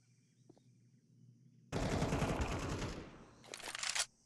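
Sustained automatic gunfire from a Counter-Strike 2 match rattles loudly for about two seconds. A second short burst follows, with faint background sounds before it and no talk.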